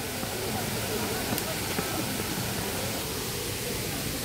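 Shifen Waterfall running low during a drought, a steady broadband rush of falling water heard from nearby, constant and unbroken, with faint voices in the background.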